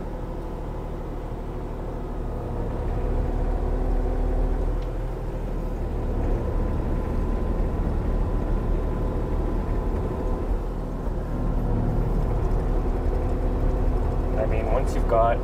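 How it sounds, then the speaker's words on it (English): A heavy machine's engine idles as it warms up, giving a steady low rumble that runs through the whole stretch with little change, heard from inside the cab. "I'm just gonna let this machine warm up for a couple of minutes."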